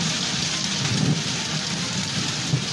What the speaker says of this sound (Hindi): इस्लामाबाद, लाहौर समेत पंजाब के कई शहरों में आंधी, तूफान, बारिश